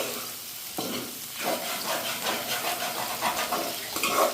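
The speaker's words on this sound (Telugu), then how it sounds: "ఇప్పుడు అల్లం వెల్లిపాయలు వేసాం కాబట్టి కొంచెం అడుగంటుకుంటూ ఉంటుంది." Ginger and garlic fry in a pan, a steady sizzle with stirring scrapes throughout, fairly loud and close with no talking.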